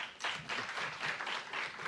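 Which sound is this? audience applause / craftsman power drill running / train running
audience applause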